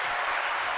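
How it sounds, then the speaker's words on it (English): Canned applause from a sound-effect button, a steady dense wash of clapping for a brief moment without pauses. "The clapping."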